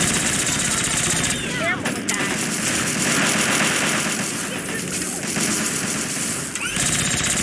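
Sustained rapid gunfire in a Fallout 3 battle, loud and continuous throughout with bursts layered over background noise and talk.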